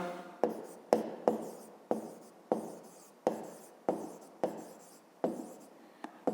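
A pen writes on paper while working a fifth-grade math exercise, ten or so crisp strokes and taps at a steady, unhurried rhythm, close and clear in a quiet room.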